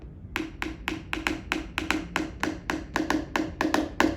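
A paintbrush tapped like a drumstick in a classroom workshop, giving a steady run of about fifteen sharp, dry clicks at an even rhythm, close and clear with no talking.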